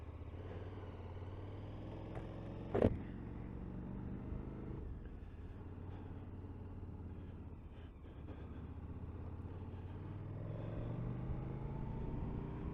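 A KTM 1290 Super Adventure S V-twin motorcycle rides along at a quiet, steady engine drone with a brief knock or click partway through, and no talking.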